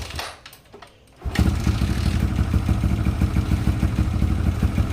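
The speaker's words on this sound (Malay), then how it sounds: "kita try hidupkan enjin lah" A Yamaha LC135 motorcycle that has not been started for nearly a month cranks briefly, then catches and settles into a loud, close, rapid idle putter.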